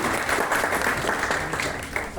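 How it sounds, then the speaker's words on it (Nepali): An audience claps in steady, dense applause to welcome a speaker at an event on stage, a continuous round of hand claps with no pauses. "जिमी गुरुङ सरलाई जोरदार तालीले स्वागत गर्नुपर्छ"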